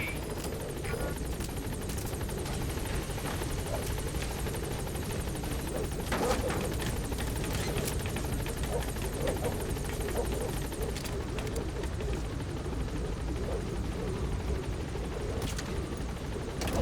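Pequod transport helicopter from Metal Gear Solid V: The Phantom Pain arriving at a landing zone, its steady rotor chop and engine roar loud and continuous throughout, with no speech over it.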